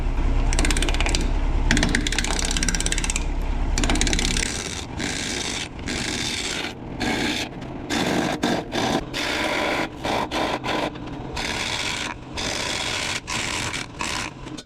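Wood lathe spinning at 800 RPM on a woodturning project, a steady mechanical hum with a clattering, ratchet-like rattle that shifts and breaks up partway through.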